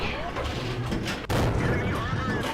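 Tank cannon fire from a T71 light tank in World of Tanks, booming under a busy battle soundscape with a loud blast near the middle, while someone talks over the action.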